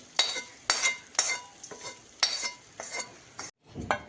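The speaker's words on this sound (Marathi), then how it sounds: "आपण सगळं हे मिक्स करून आणि हे मसाला पण आपला झालेला आहे आपण याच्यात टाकून घेऊ हा मसाला सगळा भातामध्ये" A spoon stirs spice masala through amla rice in a pan, scraping in about eight brisk, evenly spaced strokes with a faint sizzle between them, close and clear, with no talking.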